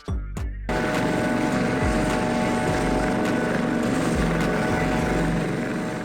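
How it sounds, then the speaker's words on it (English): Coast Guard helicopter, a loud continuous rotor and turbine roar with rhythmic blade chop after a brief start, close and alone without voices. "Coast Guard helicopter."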